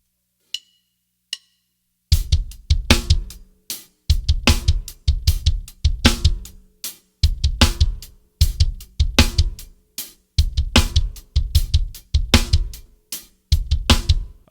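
Drum kit played as a regular groove, with two soft clicks at the start before a loud, steady repeating beat of kick, snare and cymbal hits in even bars, with no voices.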